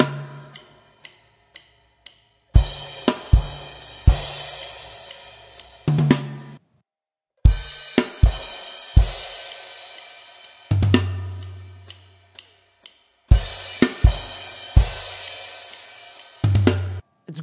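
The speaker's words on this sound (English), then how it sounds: "I just go with the right hand playing a double on the 4 tom" Drum part for a rock song: sparse sticked clicks give way to full kit bursts, with the right hand playing doubles on the floor tom, loud and close, separated by short rests and one silent gap.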